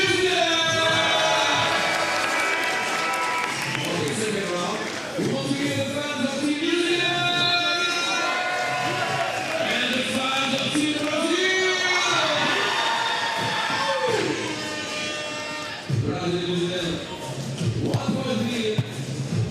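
A crowd at a men's 3x3 basketball World Cup game between Brazil and New Zealand cheers and screams continuously, a dense roar of many voices with chanting and shouts rising and falling throughout.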